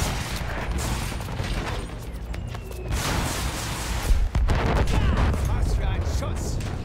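Enemy gunfire in the World War I shooter Battlefield 1 rattles as a dense, continuous barrage of shots and blasts, loud and chaotic, with a voice speaking partly under the noise.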